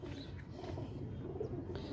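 Soft, low cooing from pigeons kept by a Lahore pigeon fancier, repeated throws of a muffled coo close by and fairly quiet, with faint chirps above.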